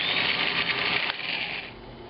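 An electric spice mill grinds whole spices and dried green chili to powder, a loud continuous whirring buzz that changes pitch slightly midway as the contents break down.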